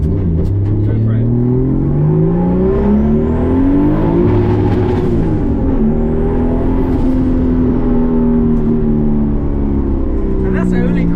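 Modified 430 bhp RB25-powered Nissan S13 accelerating hard in first gear, its engine note climbing, dipping and climbing again, loud and close inside the car throughout, with people talking over it.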